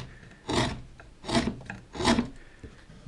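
A wood chisel cuts across the grain of a piece of pine in three separate rasping strokes, evenly spaced and close up, with no talking.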